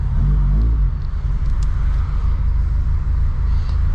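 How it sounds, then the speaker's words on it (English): A cammed VW Mk2 GTI 16v engine with individual throttle bodies idles loudly and close, with a deep, uneven rumble that holds steady throughout. "The car's definitely idling like it's cammed now."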